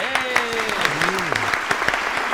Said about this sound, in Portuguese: Salva de palmas para Leonardo Túlio e Thiago Mesch.